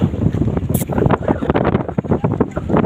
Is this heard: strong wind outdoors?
yes